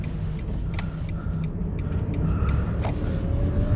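A car engine hums steadily while driving, with a low rumble and faint rise as the driver shifts gears, close and continuous with no talk.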